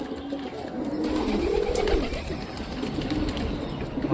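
Domestic pigeons coo close by in low, throaty, rolling calls that rise and fall over several seconds, with faint rustling underneath and no talking.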